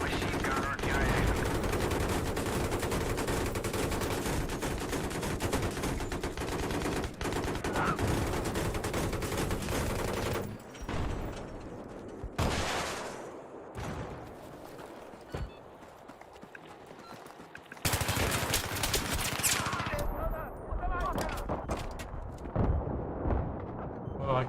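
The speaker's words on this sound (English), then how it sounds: "We spotted a hostile machine gunner in your area." Machine gun fire in the Xbox 360 shooter Battlefield 3 on the Conquest map Haven: dense, loud bursts of automatic gunfire rattle almost continuously, break off into quieter gaps, then resume.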